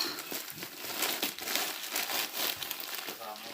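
Plastic packaging from an AliExpress parcel crinkling and rustling up close as it is opened, a continuous busy crackle with a voice talking at moments.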